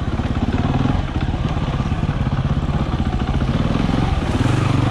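An enduro motorbike engine runs steadily while riding outdoors on a cold winter day, a loud, close, continuous rapid-pulsing drone with no speech.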